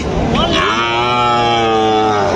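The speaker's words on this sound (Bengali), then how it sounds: "এখানে একটা সুন্দর বাছুর আছে ভাই" A calf moos loudly and close by in one long, drawn-out call at a cattle market in Joypurhat, Bangladesh.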